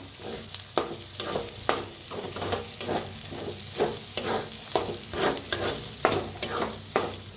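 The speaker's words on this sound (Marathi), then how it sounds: "आता भाजून घेऊया" Turmeric, red chili powder, coriander powder and garam masala are stirred and roasted in a hot pan, with a steady sizzle broken by repeated scraping strokes of a spoon.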